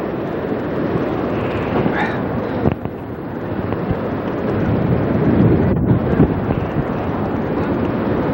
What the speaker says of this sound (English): I'm not saying too much right now because I want you to hear the roar of the water.